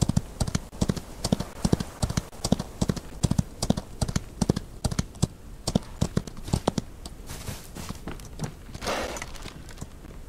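Horse hooves clip-clop in the Old West video game Outlaws of the Old West, a steady close rhythm of hoofbeats that slows and fades near the end.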